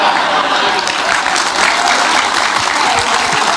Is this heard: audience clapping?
yes